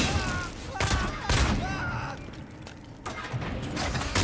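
Rapid bursts of video game gunfire crackle in quick volleys during a fight against skeletons, with layered impacts and mechanical clatter filling the mix.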